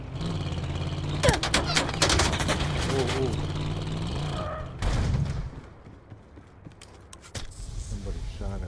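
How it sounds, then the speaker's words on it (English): Gunfire in Call of Duty Black Ops 4, with rapid close bursts and scattered shots through the first half, then quieter distant rumble and a few later pops, mixed with other game noise. "Somebody shot at me."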